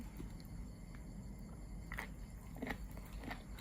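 Crisp bites into a fried wonton, close and fairly quiet, with a few sharp crunches near the end over low room noise.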